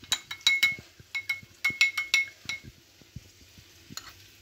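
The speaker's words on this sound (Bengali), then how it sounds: "ফার্স্টে এটা আমার বাড়িতে পাতা দই, একটু ফেটিয়ে নিতে হবে।" Homemade yogurt (curd) being whisked in a bowl, heard as a run of quick, close clinking and scraping strokes in uneven bursts that fade toward the end, with no talking.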